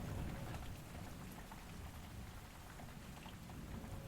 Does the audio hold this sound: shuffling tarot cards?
no